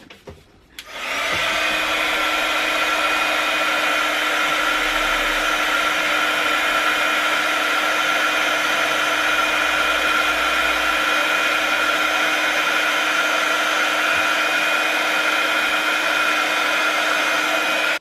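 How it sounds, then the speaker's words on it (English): Heat gun switching on and running steadily to melt embossing powder on a handmade greeting card, a loud, constant blowing whir with a faint high whine that holds unchanged after a brief start-up. "Then I use this heat gun."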